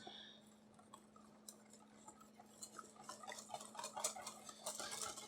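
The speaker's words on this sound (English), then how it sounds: "I'll whisk this up" Vinegar and mustard vinaigrette for a Brussels sprout salad being whisked in a bowl, the soft rapid tapping of the whisk starting faint and growing busier and louder toward the end, with a steady low hum underneath.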